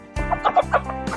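Chickens cluck and murmur close by in quick, overlapping bursts while eating rice bran feed balls, a busy flock sound with soft low grunting underneath.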